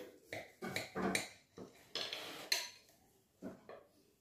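A knife cutting through an almond cake, giving a series of close, crisp scraping and tapping strokes in uneven bursts, with a clink against the plate or pan and short pauses between cuts.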